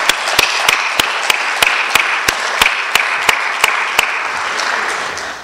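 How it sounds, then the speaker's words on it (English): Audience applause fills a fellowship hall at an anniversary gathering, a steady wash of many hands with a few sharp, close claps standing out in a regular beat before the sound thins toward the end. "Let's give everyone another round of applause."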